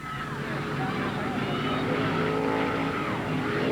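Stock cars in a late model race roar around the Ada Raceway oval, a loud continuous engine drone with tire noise, heard under a race announcer's running commentary.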